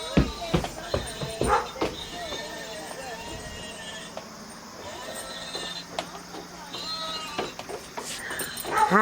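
A dog gives high whimpers and short yips and barks close by, broken up through the clip, with people talking over it.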